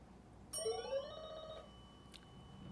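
A quiz contestant's ring-in bell at an elementary school derby match gives one bright metallic ding that holds for about a second over a quiet room, followed by a faint short tap.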